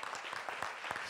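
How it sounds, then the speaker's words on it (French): Conference audience clapping for the speakers at a circular-economy foundation event, a brief burst of dense, steady applause heard from within the room. "j'aimerais qu'on applaudisse bien fort tous nos"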